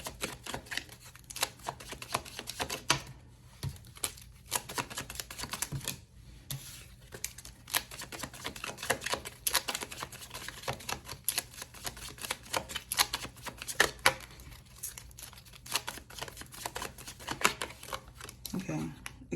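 Tarot cards being shuffled by hand, giving repeated soft riffling and flicking clicks in an irregular rhythm for about twenty seconds, close by and fairly quiet over a low steady hum.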